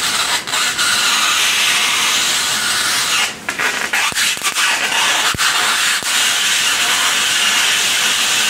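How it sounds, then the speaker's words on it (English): A high voltage plasma arc hisses steadily and loudly off a sanded metal can, a constant bright crackling rush broken by a few sharp snapping cracks partway through, with no talking. "We get a great plasma out of it."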